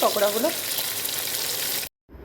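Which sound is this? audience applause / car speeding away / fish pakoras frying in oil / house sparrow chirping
fish pakoras frying in oil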